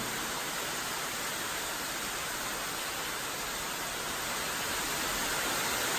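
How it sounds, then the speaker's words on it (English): Steady rain pours outside a motorcycle garage where a Kawasaki VN900 Vulcan is being stripped for a bobber build, a dense, even hiss that holds for the whole stretch with no talk over it. "Listen to the rain."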